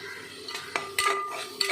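A spoon or ladle stirs chickpea curry in a cooking pot, giving a few close metallic scrapes and clinks against the pot in a short burst.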